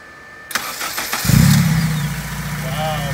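An Acura Integra with a K24A2 engine and full exhaust starts up: a brief crank and catch, then settles into a steady, deep, fairly quiet idle rumble close by.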